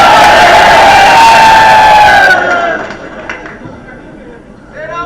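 Rally crowd at a political gathering roaring and shouting together in a loud, sustained burst that cuts off after about two seconds, leaving scattered fainter voices and murmur.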